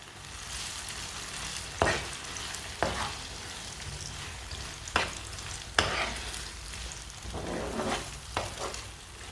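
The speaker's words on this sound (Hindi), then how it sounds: "अब मिक्स किए हुए अंडे डाल लेंगे। इसे ना ऐसे मिक्स करते हुए पकाना है।" Beaten eggs frying in hot oil for an omelette sandwich, stirred with a spoon: a steady sizzle runs throughout, broken by several sharp scraping clinks of the spoon against the pan, with no talking.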